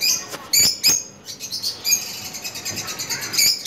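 Lovebirds at a lovebird farm chirp in sharp, repeated bursts, several birds overlapping with bright tweets that come and go across the whole stretch, fairly close and with no talking.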